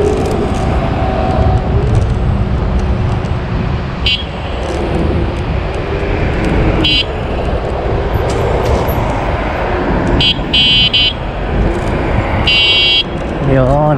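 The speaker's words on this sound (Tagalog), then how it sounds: "Kailangan natin bigyan sila ng babala, konting busina." A car horn gives a few short beeps at a sharp bend on a dark road, spaced apart over a constant loud engine and road rumble from inside the vehicle.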